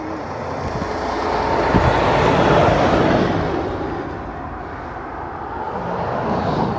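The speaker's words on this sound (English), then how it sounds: "That was a garbage truck." A garbage truck drives past on a road near Big Bend, a loud broadband roar that swells to a peak midway, then fades, with a second vehicle approaching at the end.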